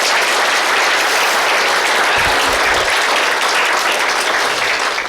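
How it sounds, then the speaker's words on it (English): Wedding guests applaud at the speeches, a dense, loud, continuous round of clapping from a full room that holds steady throughout. "They deserve a round of applause"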